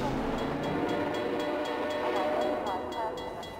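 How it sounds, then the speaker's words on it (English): A train rolls past in the video game Half-Life 2, a loud, rumbling, rhythmic clatter of wheels with repeated clicks over the rail joints, fading slightly toward the end, while faint speech may sit underneath. "Now I can watch the train go by."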